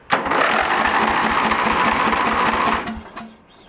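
An old junk tractor's engine cranks over on its starter, a loud, fast, rhythmic chugging whir that holds steady for nearly three seconds without catching, then winds down.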